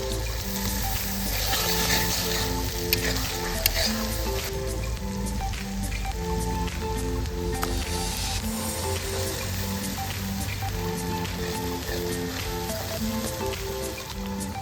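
Katla fish frying with mustard paste in a pan, a steady, close, rain-like sizzle that stays even throughout, with faint tonal music in the background.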